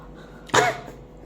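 A single short cough bursts out mid-clip, close and fairly loud, with quiet room tone before and after and no talking.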